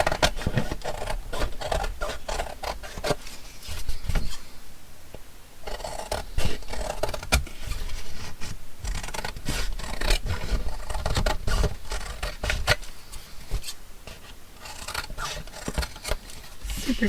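Scissors snip through stitched fabric pieces in a freeform upcycled fashion alteration, giving repeated close crisp cuts and scrapes in an uneven rhythm with brief pauses.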